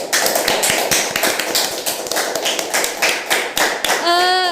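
An audience claps hands at an Islamic guidance and counseling program event, a dense, loud patter of many hands that runs steadily, then a voice starts speaking at the very end.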